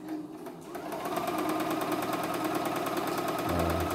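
A CNY E960 multifunction embroidery machine stitching, a steady rapid mechanical whirring and ticking that runs continuously and close up, starting slightly quieter before settling into an even, loud rhythm.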